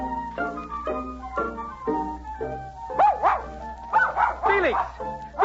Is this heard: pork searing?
no